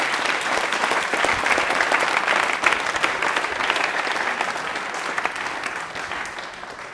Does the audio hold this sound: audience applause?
yes